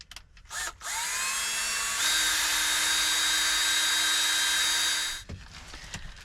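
A power drill spins up and runs steadily for about four seconds while enlarging a hole one size bigger during a DIY truck-camper blackout-curtain build, then winds down, with a few quiet handling knocks before and after.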